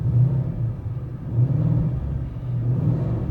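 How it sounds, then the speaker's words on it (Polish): A cold Ford Mustang GT V8 with a BOSS 302 manifold gets a light throttle blip, heard from inside the car as a low, rumbling idle that swells briefly and settles back, fairly quiet and alone. "Lekka przegazówka tylko."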